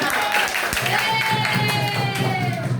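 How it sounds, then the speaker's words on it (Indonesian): A classroom of tenth-grade students at MAS Simbang Kulon breaks into applause during an Indonesian lesson, a dense wash of hand claps mixed with overlapping voices that fills the room at steady loudness. "Tepuk tangan."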